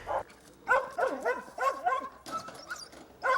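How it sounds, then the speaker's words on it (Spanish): Search and rescue dog finding a victim in a simulated collapse zone, barking and yipping in a quick irregular series of short, fairly close, moderately loud barks with brief whines between them. "Así es como Baco, otro de los perros experimentados en una zona simulada, encuentra a una víctima."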